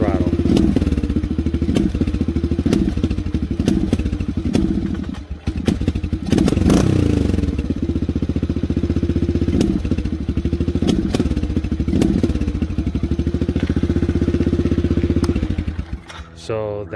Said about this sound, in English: So the bike's running and I'm going to whack the throttle.